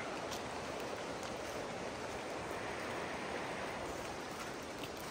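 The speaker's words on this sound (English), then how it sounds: "So there's the creek down there." A creek flows below a forest hiking trail, a steady broadband rush of water that stays constant and even from start to finish with no voices.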